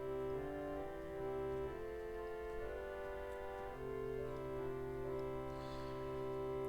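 Pipe organ sounding a string-family stop, a thin, sustained chordal passage held at a quiet, steady level with gentle chord changes and no talking.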